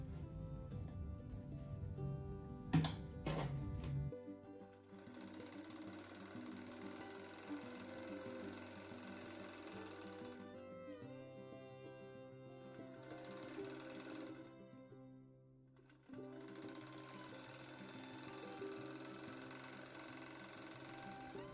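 A sewing machine stitches two quilt squares together for an easy striped rug. After a brief clatter at the start, it runs in steady rapid bursts of mechanical chatter, briefly pausing and then resuming, with no speech.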